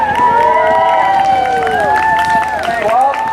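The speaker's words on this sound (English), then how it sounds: "when they lift their lances, give them a cheer as they go down" Spectators at a Great War cavalry demonstration cheer loudly as horsemen charge with lances to lift tent pegs; a dense, sustained roar of voices with rising shouts fills the whole stretch, close and full.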